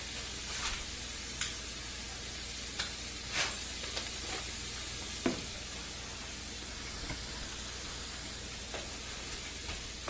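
Fish frying in a pan gives a steady, close hiss of sizzling with a few faint pops and clicks of stirring scattered through it, and no one talks.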